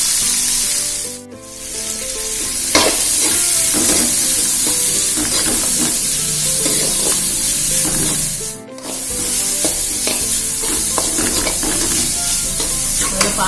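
Onions frying in oil in a pan for macaroni pasta, giving a steady, fairly loud sizzle with scraping stirs, under continuous background music, with two brief dips in level.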